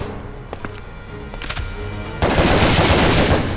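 Rapid assault rifle gunfire in the video game Resident Evil Outbreak, a dense continuous burst of shots starting partway through after quieter scattered game sounds, loud and close.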